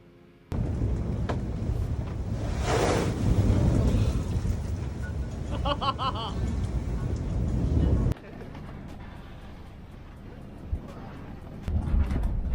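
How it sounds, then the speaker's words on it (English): Loud, sustained roar of wind and rushing water on a stormy sea, gusts over 31 knots, with heavy bursts of waves slamming the bow of a sailboat and spray washing over it, then a slightly calmer stretch. "The waves hit the boat so hard in the front that the water sprayed all the way over the boat"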